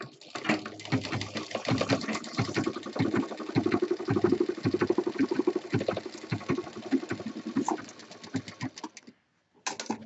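A sewing machine stitches a handbag panel in quick, rattling bursts of needle strokes close by, running almost continuously, then stopping briefly and starting again near the end.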